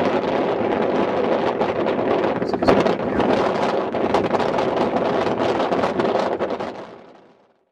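Strong wind blows across a UK beach near an old lighthouse, a steady loud roar and buffeting against the microphone that lasts throughout and fades out at the end.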